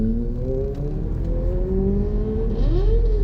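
A Kawasaki Ninja motorcycle revs on a road near a market in Tagaytay, a steady engine drone whose pitch climbs sharply near the end, heard alone at moderate level.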